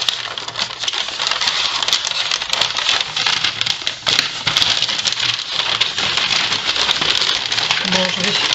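Taped paper packaging is peeled and torn off a parcel, giving close, busy crinkling and scratchy tearing with sharp little snaps, continuous throughout, while someone talks over it.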